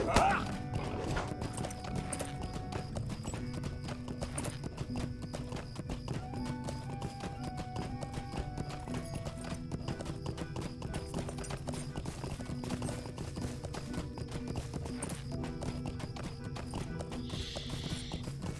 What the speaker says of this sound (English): It's nice just to listen to the clip-clop of the horse.